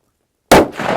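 A single suppressed shot from a Ruger Precision Rifle in 6.5 Creedmoor with 120-grain loads, loud and close, a sharp muffled crack after silence followed by a lingering rumble as it decays.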